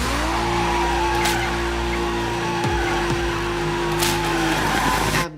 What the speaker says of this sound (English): Burnout. A celebration.